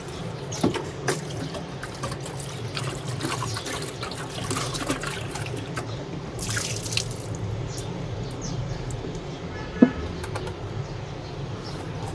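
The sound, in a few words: water poured onto car headlight to clean it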